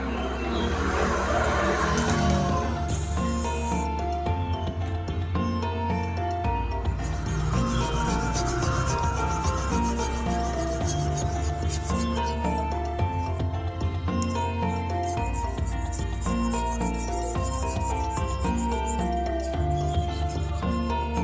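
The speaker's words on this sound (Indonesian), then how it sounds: "Kita ganti menggunakan batu yang 4000, grade-nya lebih halus." Knife blade rubbed back and forth on a fine 4000 grit whetstone, a steady rasping scrape running continuously under a loud, tonal music bed.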